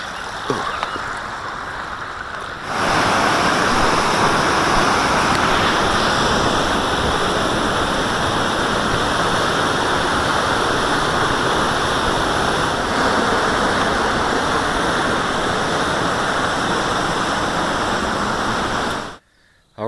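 Loud, steady rushing water of a Yosemite backcountry stream crossing fills the whole stretch, a constant broadband flow that cuts off abruptly at the end.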